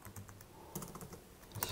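A few quiet computer keyboard keystrokes, a light tap followed by a firmer press like Y then Enter, soft and close.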